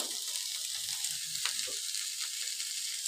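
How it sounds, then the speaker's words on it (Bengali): Banana stem and potatoes frying in a pan, a steady hissing sizzle at low volume with faint stirring movements underneath. "এইবার দেখো থোড়টাকে আমি এর সঙ্গে ভালো করে আলুর সঙ্গে ভালো করে আমি কষাবো"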